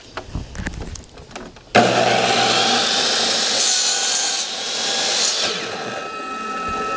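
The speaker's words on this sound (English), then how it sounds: "we're going to cut 3/4 inch by 3/4 inch little base pieces like feet and glue them" A power saw, angled for bevel and miter cuts, slicing small 3/4 inch square wooden base pieces: a loud, steady cutting whine begins abruptly after some quiet handling noises and runs to the end.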